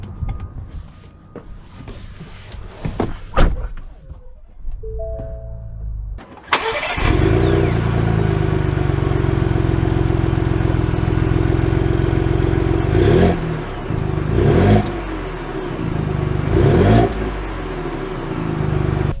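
A 2021 Ford Bronco First Edition two-door SUV engine cranks and starts after some quiet shuffling, then settles into a steady hum as the vehicle drives off, with a few gear shifts.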